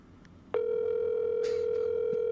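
A single steady telephone tone starts abruptly and holds loud and close on a call, with faint background noise and no talking.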